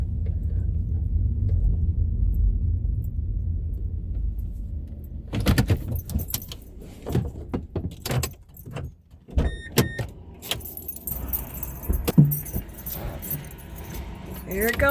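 A car rolls to a stop at a Goodwill donation drop-off with a low engine rumble, then keys jangle, a door thunks and scattered handling clatters follow, with a person talking briefly.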